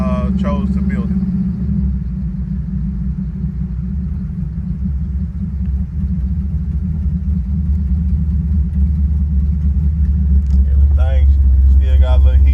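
1979 Malibu LS with a swapped engine idling close by, a steady deep rumble that holds throughout, with someone speaking briefly over it at the start and end.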